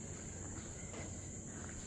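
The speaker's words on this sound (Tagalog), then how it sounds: "Maririnig mo mga kuliglig, mga ibon." Crickets on a hill park trail at Telok Blangah Hill Park, Singapore, give a faint, steady high chirring drone that runs unbroken through the quiet forest air.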